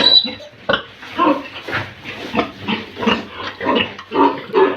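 Pigs on a farm, a sow with her piglets, grunt in a steady run of close, rhythmic oinks and snorts, repeating about twice a second with no talking.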